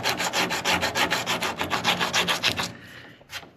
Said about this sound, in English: you take a piece of sandpaper